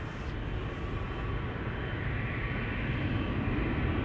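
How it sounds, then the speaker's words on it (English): A Singapore Airlines Airbus A350-900 taxis at Amsterdam Schiphol. Its engines make a steady broadband whoosh and rumble at a fairly distant, moderate level that grows slightly louder as it goes on. "That is Singapore Airlines on the move to Singapore. A350-900 probably coming this way."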